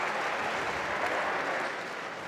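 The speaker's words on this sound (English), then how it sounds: "Huge cry from the French contingent in the crowd." A squash tournament crowd cheers and applauds in a steady, dense roar of clapping that holds for the whole span without any clear voices above it.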